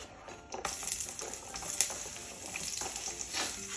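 Oil sizzling in a pan as aromatics are sautéed for paksiw, with a soft, steady frying hiss and occasional stirring scrapes, fairly faint, and no talk.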